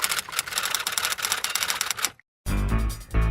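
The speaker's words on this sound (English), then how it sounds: "Please play the typewriter sound effect." A typewriter sound effect: rapid mechanical key clacks for about two seconds, a brief silence, then a louder burst of striking and carriage noise, heard alone.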